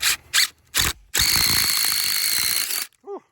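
A power drill bores a hole from the reverse side, the bit sawing steadily through for about two seconds after a few short bursts of revving, with a high whining tone riding over the grinding, then it stops.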